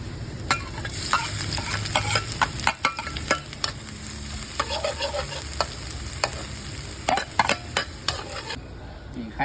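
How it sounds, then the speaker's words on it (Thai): Garlic and spices frying in hot oil for a Thai fish larb, a loud, close, continuous sizzle with scraping stirring strokes throughout. "มีกระเทียม เรามีสูตรพิเศษนะเครื่องเทศนะ เจียวกับน้ำมันร้อนๆ"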